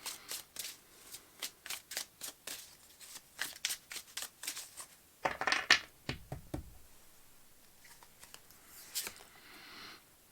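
A tarot deck being shuffled up close, with a steady run of quick riffling card flicks, a brief louder burst of handling midway, then quieter card sounds, no talk.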